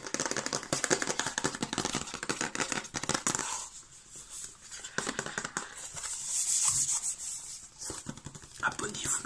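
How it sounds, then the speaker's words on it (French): New earphones are unboxed up close in a quiet ASMR setting, with crisp rubbing, crinkling and tearing of packaging in irregular bursts separated by softer pauses. "Nous allons déballer"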